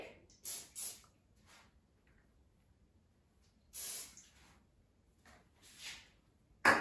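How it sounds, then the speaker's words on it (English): Several short hissing bursts from an aerosol cooking spray can into silicone cups, a couple of quick puffs then longer sprays separated by quiet pauses, close by. "I'm going to spray the inside of the silicone cups with a cooking spray"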